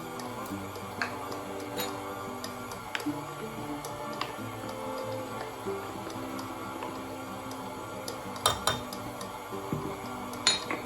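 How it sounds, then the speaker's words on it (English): Cinnamon is mixed into cinnamon bun ingredients in a bowl, with scattered light clinks and taps of a utensil against the bowl over a quiet steady background, and a few sharper knocks near the end. "Another tablespoon of cinnamon, and we're going to give this a mix."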